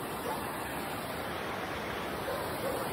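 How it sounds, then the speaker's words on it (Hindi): A mountain river flows beside a riverside cottage in Jibhi, a steady, full rushing roar of water that fills the scene evenly without a break. "और बगल में अगर नदी है ना तो अलग ही फील आता है। इसकी जो आवाज़ है ना, जो आपको सुनाई दे रही होगी"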